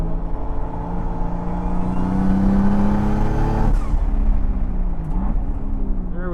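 A turbocharged sports car, one of an RX7, Mk4 Supra or R32 GTR, accelerating hard on a race track, its engine note rising steadily and loud before a shift partway through.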